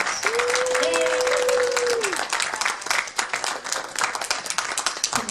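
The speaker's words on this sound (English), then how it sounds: "Give them a round of applause." Audience applause after a balloon parade performance at a Thanksgiving gathering, dense clapping throughout with a voice briefly sounding near the start, the clapping thinning and becoming more uneven toward the end.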